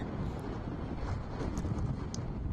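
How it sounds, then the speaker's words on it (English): Steady rushing wind buffets the microphone in low rumbling gusts at an outdoor football match, fairly faint and continuous with no voices. "You can hear those gusts going."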